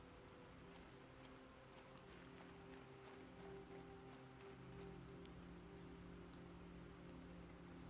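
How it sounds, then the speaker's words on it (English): Rain coming down outside, a faint steady patter of drops with scattered individual ticks over a low constant hum, soft and distant throughout with no voices. "It is. Got some rain coming down."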